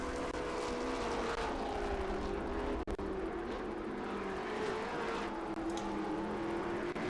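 A TA2 race car in Trans Am Series qualifying at Mid-Ohio, the Make-A-Wish Foundation car, with a steady, loud engine drone that holds a sustained pitch and sweeps slowly, heard continuously from a distance.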